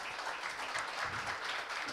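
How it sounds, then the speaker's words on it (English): An audience at a conference conclave applauds its sponsors, a brief steady wash of clapping heard from a distance at fairly low level, with faint voices underneath. "Can we have big round of applause for all our sponsors?"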